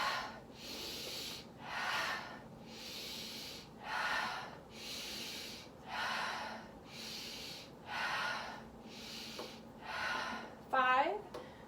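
Slow deep breaths drawn in and pushed out through the nose during a hip flexor yoga exercise, about six even rhythmic breaths close and clear, with a brief voice at the end.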